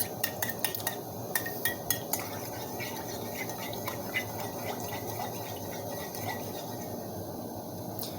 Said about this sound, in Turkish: Şimdi bu ikisini güzelce karıştırıyoruz